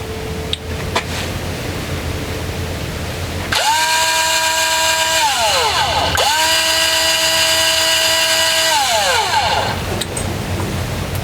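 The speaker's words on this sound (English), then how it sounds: "Lube Shuttle also makes a battery-powered grease gun" A Lube Shuttle battery-powered grease gun motor whirs loudly in two steady runs of about two and a half seconds and three seconds, each winding down with a falling pitch, with no talking.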